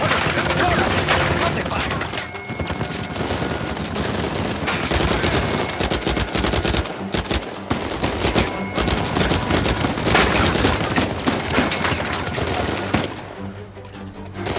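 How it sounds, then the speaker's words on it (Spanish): Machine gun fire in the video game Uncharted 4, loud and nearly continuous with dense rapid bursts throughout, mixed with other game effects. "Otra ametralladora, colega."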